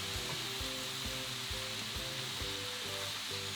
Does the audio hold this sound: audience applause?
no